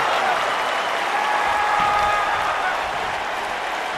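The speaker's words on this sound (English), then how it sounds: "roaring through this crowd right now" Steady roar from an arena crowd in the WWE 2K23 wrestling video game during a Wes Lee versus Yoshihiro Tajiri dream match, a dense, continuous wash of cheering noise at an even level throughout.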